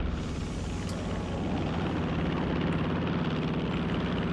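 An aircraft takes off in the strategy game Blitzkrieg, a steady, loud, droning engine roar with a low rumble that holds for several seconds, with no talk.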